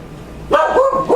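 A dog gives a few quick, yappy barks close by, in a short cluster after a brief quiet lead-in.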